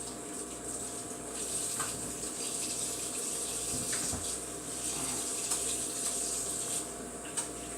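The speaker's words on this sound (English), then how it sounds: "I'm going to wash my hands real quick here before I continue." Tap water runs steadily into a kitchen sink while hands are washed during pot roast preparation, a continuous close splashing hiss with small shifts as the hands move through the stream, and no talking.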